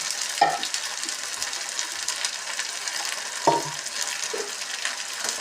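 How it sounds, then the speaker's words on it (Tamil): Ginger, garlic and dried chili paste stirred in hot oil for a Burmese-style prawn dish, giving a steady sizzle with two sharp spoon knocks against the pan. "இது நல்லா கிண்டிடுங்க"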